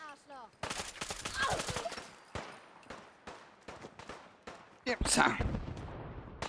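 Rapid bursts of enemy gunfire in Fallout 4, loud repeated shots in clusters with a heavy burst near the end, while a man mutters and curses over the shooting.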